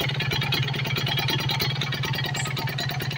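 A Kawasaki Ninja RR two-stroke motorcycle engine idles close by after a carburetor service, with a steady, rapid, rattling and buzzing pulse that stays even throughout and has no talking over it.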